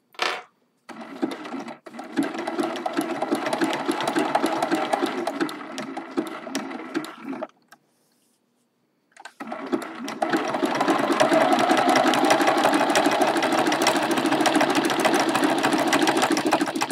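An embroidery sewing machine stitches a watering can design, a fast steady mechanical whir that stops for about two seconds midway, then resumes louder and runs continuously to the end.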